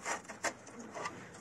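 Young pigeons in a loft give soft, faint cooing calls in a few short bursts, with quiet rustling around them in a close indoor space.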